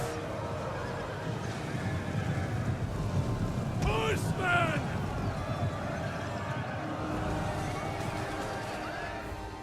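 Horses whinny in a Total War: Rome 2 battle, one clear neigh rising mid-clip over a rumbling wash of battlefield noise, wind and hoofbeats, with a voice talking faintly underneath.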